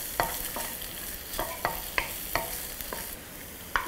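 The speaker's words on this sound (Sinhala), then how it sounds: "ඒක රත් වෙනකොට අපි සොසේජස් ටික දාගන්නවා." Sausages fry in hot oil for Szechuan fried rice, a constant sizzle broken by a regular series of sharp scraping stirs, close and fairly loud.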